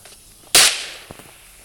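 A single sharp gunshot in a shooting video game, one loud crack with a short decaying tail, followed by a faint softer knock.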